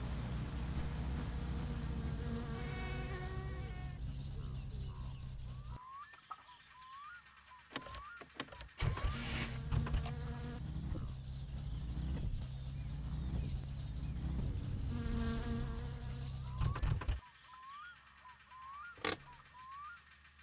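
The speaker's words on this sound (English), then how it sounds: "Did something actually fall off, or was it just the sound the car made?" A car engine in a video game drones steadily with a buzzing, revving tone, shifting pitch as it accelerates, with a few sharp clunks and a brief drop partway through.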